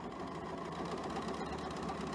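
A sewing machine runs steadily as it stitches fabric squares onto rectangles with a quarter-inch foot, giving a continuous, fairly quiet mechanical whir throughout.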